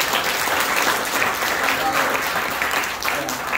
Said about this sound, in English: let's just give them another warm round of applause